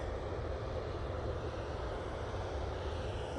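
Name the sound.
Ryanair aircraft at Manchester Airport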